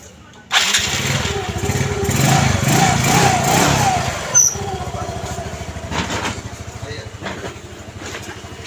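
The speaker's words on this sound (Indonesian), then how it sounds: "Kita coba dihidupin dulu motornya." A Yamaha Mio scooter with weak power and heavy vibration is started, its engine catching with a loud burst and then idling with a rough, fast putter close by, with faint background noise and no clear talk.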